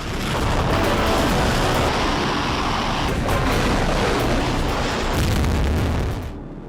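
A huge, loud explosion or atomic bomb blast, a sustained deep rumbling roar that fills the whole clip and cuts off abruptly at the end.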